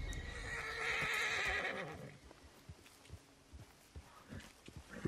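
A horse in Red Dead Redemption 2 gives a loud, close whinny lasting about two seconds, followed by scattered clip-clop hoofbeats on the ground.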